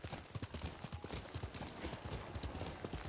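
A horse's hooves clip-clop in a quick steady rhythm as it is ridden in a feudal Japan samurai game near Castle Shimura, with dense close footfalls throughout and faint ambient noise behind.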